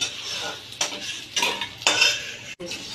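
A few clattering scrapes of a utensil against metal as fried potatoes are scooped out into a bowl, with a faint sizzle underneath.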